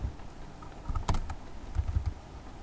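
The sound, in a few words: computer keyboard typing terminal command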